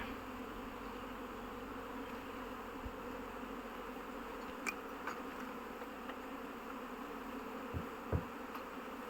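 A steady, faint buzzing drone of many honeybees flying around a hive, continuous throughout with a few soft clicks and taps.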